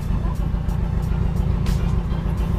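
A car pulling a tourist road train around Van der Wijk Fort in Gombong, Kebumen, with a steady low engine rumble running throughout at close range and no talk over it.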